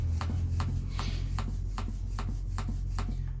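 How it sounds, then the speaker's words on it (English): Hand pump inflating the tire of a hub motor wheel during installation, with about eight regular pump strokes in a steady rhythm over a constant low hum, close by. "I start pumping it."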